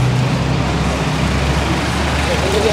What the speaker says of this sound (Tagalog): Oh, may truck.